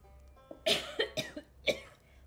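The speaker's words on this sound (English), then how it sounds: "Already coughing." Someone coughs after drinking pickle juice, a handful of harsh hacking coughs in quick bursts close to the mic, the last one standing apart after a short pause.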